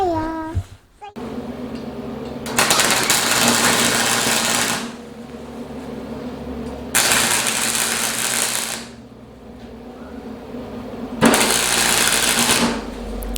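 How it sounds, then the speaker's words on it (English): A small, cheap Mastercraft flux-core MIG welder welds steel for table frames. Three separate stretches of loud, steady crackling buzz, each lasting a few seconds, are split by quieter pauses with a low hum underneath. "I'm just running a little cheap flux core welder here, a little Mastercraft."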